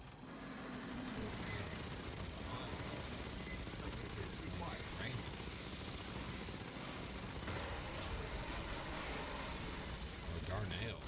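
Rapid, dense gunfire from a squad fending off an armored Xeno in the co-op shooter game Aliens: Fireteam Elite, a constant loud barrage of shots and bursts running the whole stretch, with voices over the combat.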